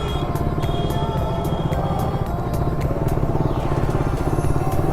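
A KTM RC200 motorcycle engine, freshly repaired after a timing chain problem, idles close by with a steady, even rhythmic thrum and light mechanical clatter throughout.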